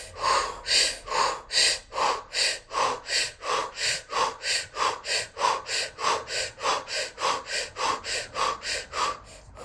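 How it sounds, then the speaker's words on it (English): Someone breathes deeply in and out through an O-shaped mouth during a Kundalini yoga practice, about two dozen rhythmic, airy breaths in a steady, even cycle, close and alone without talk. "using an O mouth breath"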